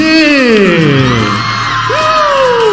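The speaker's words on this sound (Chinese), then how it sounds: "再一次掌声和尖叫" A big crowd of fans at a celebrity fan meeting screams and whoops continuously and loudly, with cheering and applause filling the whole stretch.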